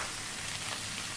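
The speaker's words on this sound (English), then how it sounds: "In goes those chickpeas." Chickpeas hit a hot pan of banana coconut curry on high heat, giving a steady close sizzle and crackle like rain on a surface, with no talking.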